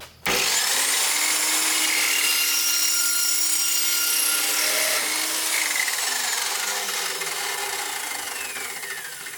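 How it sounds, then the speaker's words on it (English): A cold cut saw slicing through metal on a Ford F-350 dually during a Cummins engine swap: an abrupt start, then a loud, continuous grinding whine with ringing overtones that slowly fades toward the end, with no talk. "You gotta love the cut a cold cut saw makes."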